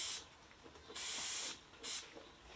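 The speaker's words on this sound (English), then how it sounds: "I'll be taking the spray again and spraying her teats." A hand spray bottle mists a dairy goat's teats after milking, with three separate hissing bursts, the middle one longest, close and soft against a quiet background.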